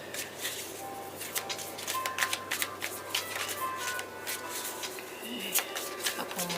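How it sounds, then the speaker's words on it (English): Tarot cards are shuffled by hand close by, a fast run of crisp riffling and flicking clicks that goes on throughout, with no talking. "a couple more shuffles here"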